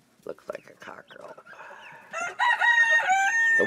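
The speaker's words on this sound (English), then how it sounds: "Looks like a cockerel." Young cockerel crowing at close range from about halfway through, harsh and drawn-out, following scattered clucks and hen chatter from a mixed flock of chickens.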